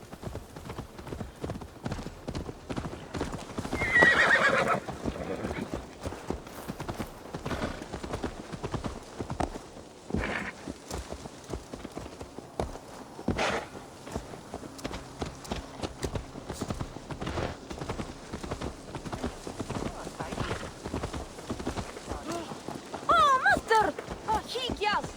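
Horse hooves clip-clop steadily in Assassin's Creed Valhalla, with a quick rhythmic gait through the whole stretch and short neighs near the start and end, under intermittent character dialogue.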